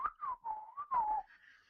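A voice imitates an angry whistle with a series of wavering, warbling whistled tones, rising and falling in four short bursts, fairly loud and close, then trailing off into a faint higher hiss.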